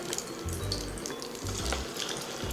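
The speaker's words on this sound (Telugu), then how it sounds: "ఒక్కొక్కటి మనం ఇలా వేసుకోవాలి. బాగా ఫ్రై చేసుకోవాలండి, బ్రౌన్ కలర్ వచ్చినంత వరకు" Fish kofta balls frying in hot oil, a steady close sizzle and crackle with low bubbling bursts that swell and fade, carrying on alone without any talk.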